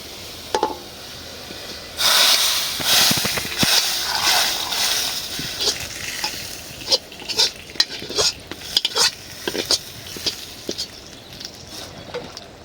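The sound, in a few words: frying and stirring dal in a pan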